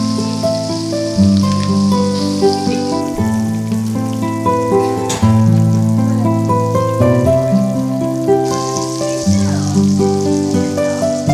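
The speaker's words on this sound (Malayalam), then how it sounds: "അയല ഓരോന്നോരോന്നായി തിളച്ച വെളിച്ചെണ്ണയിലേക്ക് നിക്ഷേപിക്കുക" Mackerel fries in hot coconut oil, a steady crackling sizzle that stays under loud background music throughout.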